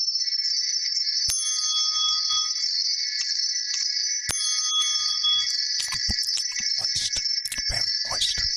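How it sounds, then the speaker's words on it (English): Metallic wind chimes ring continuously in bright, sustained tones, struck again now and then, with clicking handling noises growing busier toward the end. "And get your wind chimes out, bro."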